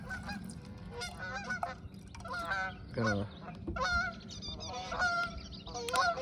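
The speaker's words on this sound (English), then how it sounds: "Oh, there goes the geese. There's a lot of geese out here." A flock of geese honks outdoors in a string of repeated calls, moderately distant and overlapping, with someone briefly talking among them.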